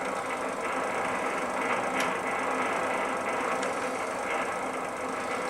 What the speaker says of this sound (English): We got the lathe turning slow,